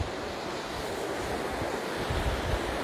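Sea waves wash onto the shore at Westward Ho!, a steady, loud roar of surf mixed with gusting wind buffeting the microphone, with no voices.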